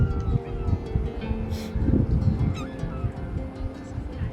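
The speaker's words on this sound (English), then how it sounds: "even joined pleasantly with a pair of seagulls singing" A pair of seagulls call on the beach at Oostende on the Belgian shoreline, their cries rising intermittently at moderate distance over a steady bed of outdoor noise.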